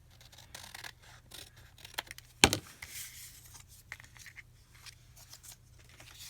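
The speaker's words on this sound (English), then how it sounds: "I'm just going to cut this out." Scissors snip through thick paper for a junk journal page, a few soft crisp cuts leading to one loud sharp snip and then quieter rustling of the sheet, close up.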